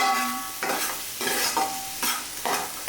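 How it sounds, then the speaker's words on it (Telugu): Salted onions in a cooking pan are stirred with four distinct scraping strokes at a steady rhythm, roughly every half second, over a continuous close sizzle. No one speaks. "చక్కగా వీటిని కూడా ఇలా కలుపుతూ మిక్స్ చేసుకోండి."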